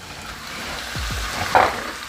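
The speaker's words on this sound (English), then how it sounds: "we're going to take our sauerkraut and we're just going to add our kraut in" About two cups of sauerkraut go into a hot frying pan for hot dogs, giving a soft sizzle with a couple of quick scraping stirs and a brief louder hiss near the end.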